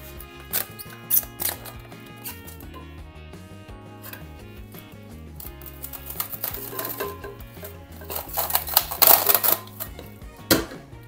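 Aluminium foil crinkles and rustles while tortillas are wrapped, a run of irregular crackling bursts that grow busier and louder toward the end, close to the microphone and heard alone.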